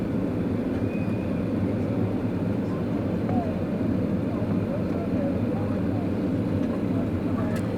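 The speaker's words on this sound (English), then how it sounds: "Quickly over to the runway again. Almost there now. And we are down." Cabin roar inside a Finnair Airbus A330 airliner landing at Doha Airport, a dense steady low rumble of engines, airflow and rolling wheels that holds constant and loud throughout.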